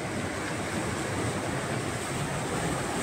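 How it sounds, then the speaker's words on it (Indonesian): Ocean waves crash and churn among sharp coral rocks near a red bridge on the coast, producing a steady, loud roar of surf with no voices over it. "teman-teman bisa melihat dan mendengarkan deburan ombak di antara celah-celah batu karang"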